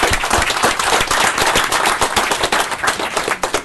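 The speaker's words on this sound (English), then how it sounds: "So I'd like to give them a round of applause" Dense, close applause from a council meeting audience honoring city staff, many hands clapping rapidly and evenly for several seconds with no voices over it.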